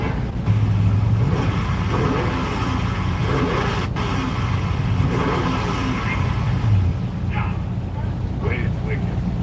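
LS-swapped Porsche 911 with an X-pipe exhaust, engine running and revving with a loud, throaty rumble that rises and falls, while people talk over it nearby.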